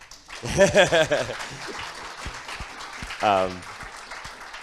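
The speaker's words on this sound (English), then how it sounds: "You can clap." An audience at a Bitcoin conference panel claps briefly while voices speak over the scattered clapping.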